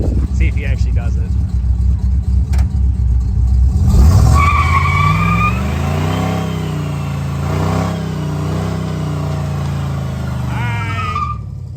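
A 1952 Ford rat rod with only front brakes revs hard on a line lock, its rear tires screeching and wailing on concrete in a long, loud, wavering burnout after an initial engine burble, with voices in the background.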